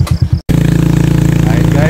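A motorcycle engine labors loudly uphill on a road near Danicop Spring, Ticugan, a dense rhythmic pulsing after a brief cutout, with a voice at the start.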